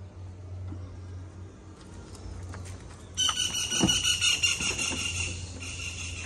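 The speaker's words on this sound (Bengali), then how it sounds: "পাখির ডাক, চারপাশে কিসকিস শব্দ" Birds chirping, faint at first, then a dense, shrill flurry of many high calls bursting in and carrying on close by.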